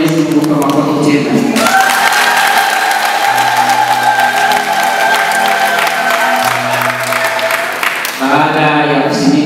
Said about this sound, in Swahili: Tumshukuru Mwenyezi Mungu kwa makofi tena.